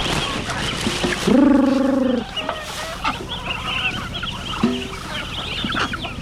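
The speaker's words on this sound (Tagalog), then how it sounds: "Ito po yung dating sisiw, medyo lumaki na po sila, kaya nilipat na po natin." Young chickens recently moved into a new protective coop cluck and call, with one loud drawn-out squawk near the start and softer scattered chirps and clucks after it, heard close with no talk.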